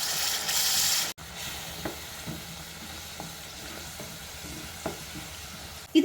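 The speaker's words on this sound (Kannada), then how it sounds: "ಸ್ವಲ್ಪ ಅರಿಶಿನ ಪುಡಿ ಹಾಕ್ಕೊಳ್ಳಿ, ಹಾಗೆಯೇ ಸ್ವಲ್ಪ ಉಪ್ಪು ಹಾಕ್ಕೊಂಡು ನೀಟಾಗಿ ಮಿಕ್ಸ್ ಮಾಡ್ಕೊಳ್ಳಿ" Tomato paste with turmeric and salt frying and being stirred in a pan, a steady low sizzle broken by light spatula scrapes and taps against the metal, heard alone at moderate volume.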